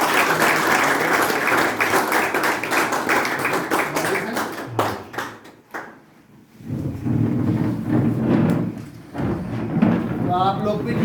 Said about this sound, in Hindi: दोबारा एक बार तालियां